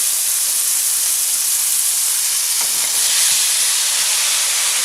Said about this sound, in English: And now I'm going to add about a half cup of Marsala wine.